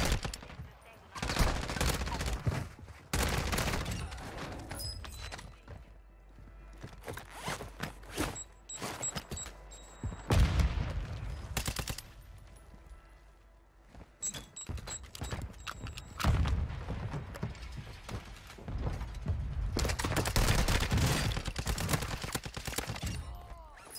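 Rapid automatic gunfire from the ISO weapon in a first-person shooter video game, several loud bursts of fast shots separated by quieter gaps, with someone talking between volleys.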